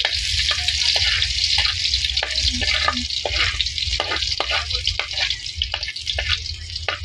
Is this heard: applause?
no